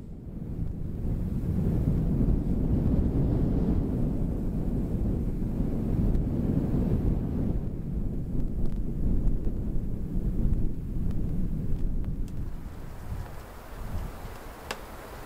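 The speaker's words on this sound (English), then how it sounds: "The wind and snow blasted us all night" Strong wind buffeting a hot tent in deep snow at minus thirty-five degrees, a loud continuous low roar and rumble of gusts against the fabric, steady throughout with no voices.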